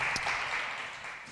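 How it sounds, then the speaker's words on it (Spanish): A church congregation applauds from their seats, a short burst of clapping that swells briefly and then fades. "Why don't you give an applause from where you're seated?"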